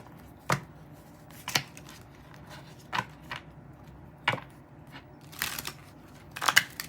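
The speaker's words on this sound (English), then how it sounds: "But get a few shuffles here." A deck of playing cards being shuffled, with sharp, close riffles in separate bursts about once a second and quiet gaps between them.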